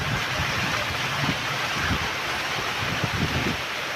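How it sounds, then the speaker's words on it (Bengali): Strong wind blowing hard through a Dhaka market area during a rainstorm, a loud, constant roaring rush with low buffeting gusts against the microphone, no voices. "এই যে প্রচুর বাতাস, প্রচুর বাতাস চলতে আছে।"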